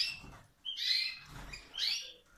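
Canaries of the Spanish timbrado breed chirp in short bursts, three clusters of bright, high twittering with brief pauses between, fairly close and moderately loud.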